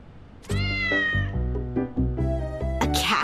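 Cat meowing in the Shadowverse video game: a few loud, close, drawn-out meows with a harsher cry at the end, no voices.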